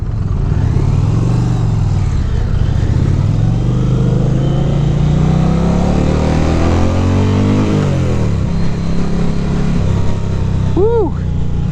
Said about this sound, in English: That's a beefy sound. I like that exhaust.